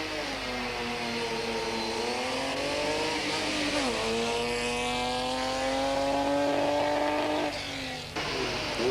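Nissan Safari rally trucks and other commercial vehicles pull away from the start of the 1988 Swazi Spa 500 rally, engines loud and close, revving steadily with rising and falling pitch over about nine seconds.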